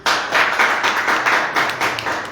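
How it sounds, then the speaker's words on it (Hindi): A church congregation applauds with brisk, dense clapping that stays close and loud, in uneven waves across the whole stretch. "जोरदार तालियों के साथ में।"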